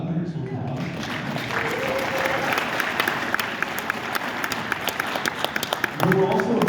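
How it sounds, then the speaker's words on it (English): Audience applause at a charity auction fills the room with dense, steady clapping lasting several seconds, crowd noise mixed in, swelling slightly near the end as a few voices break through. "You can applaud for that. I heard some applause."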